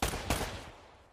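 Two sharp gunshots ring out in a video game, the second about a third of a second after the first, each a loud broadband crack that trails off into a fading tail, with no talk over them.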